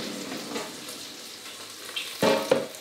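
Steady crackling sizzle of chicken wings frying in an air fryer, with a couple of louder clatters near the end as something is moved.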